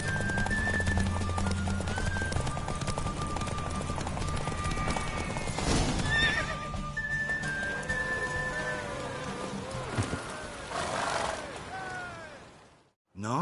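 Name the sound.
horse hooves and neighing in the video game The Witcher 3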